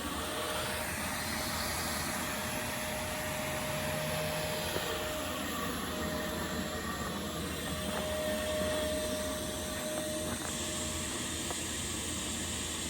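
A vacuum drawing yellowjacket wasps out of a large nest in a storage shed at a business site, a steady, continuous roaring hiss that runs unbroken throughout, with a faint high whine.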